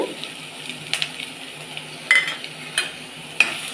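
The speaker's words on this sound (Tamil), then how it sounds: "எண்ணெய் விட்டுட்டு இந்த எண்ணெயோட கொஞ்சம் கட் பண்ணி வச்ச ஆனியன் போட்டுக்கலாம்" Onion, green chilli and garlic frying in oil in a pan, a soft steady sizzle broken by a few sharp clicks of a spoon stirring against the metal.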